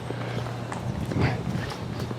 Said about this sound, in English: Here's someone on a horse.